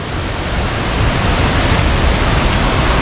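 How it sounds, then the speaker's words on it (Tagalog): Hulugan Falls in Luisiana, Laguna roars as a loud, steady wash of falling water, dense and unbroken from start to end, close by, with no voices over it. "Grabe, Ulugan Falls."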